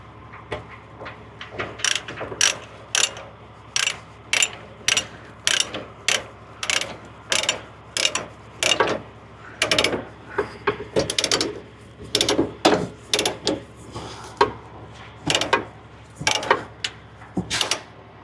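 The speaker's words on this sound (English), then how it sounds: "hook it on the best one you got, and ratchet it up." A ratchet being cranked to tighten a tow chain on a heavy wrecker towing an electric bus, giving loud, close, evenly spaced clicking bursts that repeat steadily throughout.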